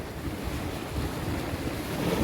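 Steady seawater wash and surf rolling along the Maragondon Sanctuary shore, a continuous low rumble mixed with gusty wind buffeting the microphone, with no voices.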